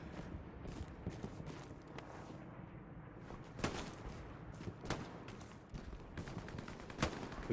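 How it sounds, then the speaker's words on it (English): Gunfire during a military game session: sharp scattered shots, some distant and faint, others closer and louder, irregular across the stretch. "Who's shooting?"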